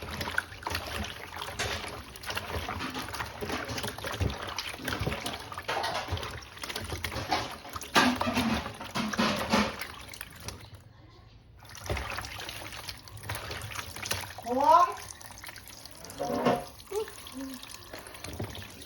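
Running tap water splashes steadily while pork skin is washed and cleaned with a little salt, with rubbing and sloshing sounds, a short pause in the flow, then water running again.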